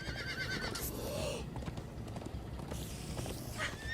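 Horses gallop with steady clip-clop hoofbeats and a whinny in Minecraft: Story Mode, alongside game mechanisms and layered effects, loud and continuous with no talking.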